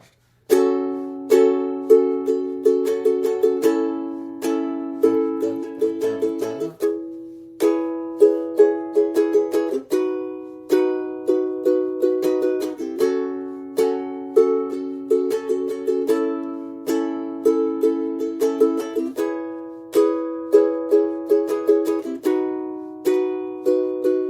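A ukulele strummed in a steady down-and-up pattern, repeated chords ringing out clearly with brief pauses between phrases.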